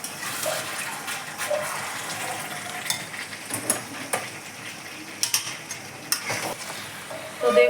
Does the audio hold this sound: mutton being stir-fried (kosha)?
yes